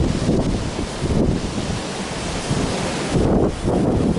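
Gusty wind roars and buffets around a flying Arducopter quadcopter outdoors, a loud broadband rush that swells and eases in waves, heavy and close throughout with no speech.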